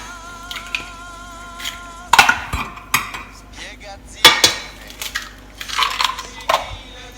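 Two eggs cracked against a bowl for Liège waffle dough in a home kitchen, giving a few sharp taps and clinks spread over several seconds over a steady low background hum.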